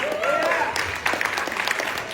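Audience at a Freedom Fund Banquet claps in a short burst of steady applause lasting about two seconds, with a voice faintly over it.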